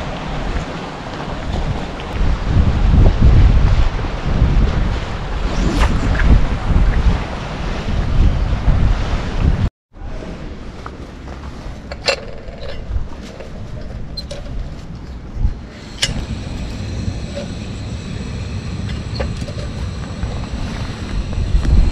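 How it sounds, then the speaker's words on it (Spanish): Strong wind buffets the microphone beside the water at a river shore fishing spot, with loud broadband gusts and surf-like rushing throughout, a brief cut partway, then steadier blowing. "Porque hay mucho viento, ¿no?"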